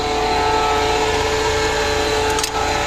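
Tractor engine idling at low throttle while pulling a corn seeder in a field, a loud steady mid-pitched drone with a brief rattling clatter near the end.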